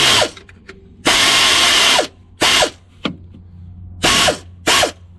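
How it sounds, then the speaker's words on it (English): A wrench works a 15 mm metric bolt in a garage. Five loud, close bursts of mechanical whirring and ratcheting, each lasting up to a second, are separated by short quiet gaps. "Sometimes you gotta feel around with the wrench."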